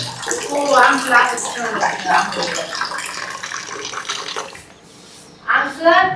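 Water running into a container at home, a steady pouring wash that fades briefly near the end before a louder splash returns, with voices talking over it.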